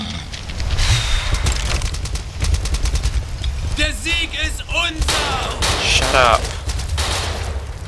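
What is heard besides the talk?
gunfire in the video game Dino D-Day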